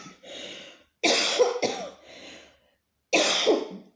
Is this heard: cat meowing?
no